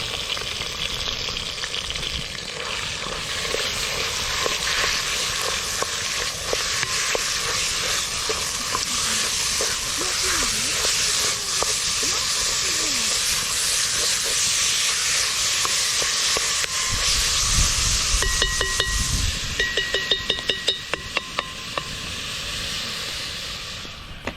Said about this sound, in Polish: I leci na rozgrzany olej.